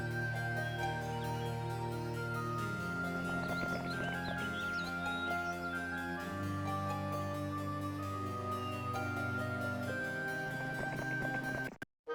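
Steady clip-clop of horse hooves in the game Heroes of Might and Magic II over a dense, sustained musical backdrop, with occasional soft whinny-like tones, cutting off abruptly at the end.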